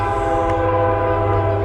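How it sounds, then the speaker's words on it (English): A train rumbles past with a loud, steady horn chord sounding over it, close by and continuous. "Trains are whistling through behind us here."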